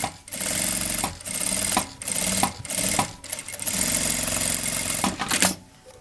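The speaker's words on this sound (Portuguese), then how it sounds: "eu vou passar a costurinha na beiradinha em volta só pra segurar a parte principal do bolso com o forro" A sewing machine stitches a bag pocket to its lining in several bursts, fast whirring runs broken by short pauses, close and clear, with no talk.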